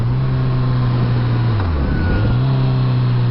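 Loud, close Kawasaki Z900RS motorcycle engine with a steady hum that dips briefly in pitch and climbs back, revving up again.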